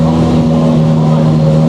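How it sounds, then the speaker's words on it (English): A Honda S2000 race car fitted with a twin-turbo compound K-series engine, running with a steady loud droning hum that holds level throughout, with speech mixed in underneath. "the engine looks like in K series"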